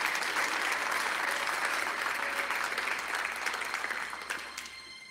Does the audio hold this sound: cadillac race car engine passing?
no